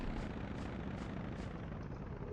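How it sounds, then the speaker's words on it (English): Airplane flying overhead in Castlevania Legacy of Darkness: a steady, broad engine drone with a faint, regular pulsing texture, fairly quiet and continuous, with no voices. "There's a plane overhead."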